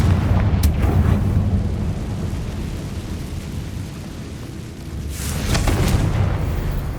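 A Confringo blasting spell from the video game Hogwarts Legacy, heard as a broad rumbling boom with a sharp crack near the start and a second bright burst toward the end, loud throughout with no talk.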